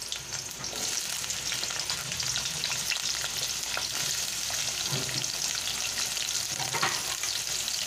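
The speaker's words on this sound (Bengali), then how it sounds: "আলুটাকে ভেজে নিচ্ছি" Diced potatoes fry in a pan with salt and turmeric, giving a steady, close hiss and crackle that runs unbroken throughout, with faint stirring scrapes mixed in and no voices.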